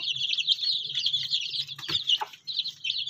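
Baby chicks peep constantly in high, rapid chirps up close while chasing and eating flies, with a few soft pecking sounds and faint low rustling underneath.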